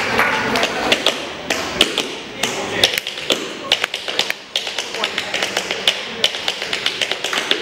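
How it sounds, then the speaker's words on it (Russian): Tap dance steps performed without music, a quick, uneven series of sharp metallic taps and heel clicks close by, with some voices mixed in around them. "Вов, можно тебя попросить чуть-чуть постучать? Без музыки!"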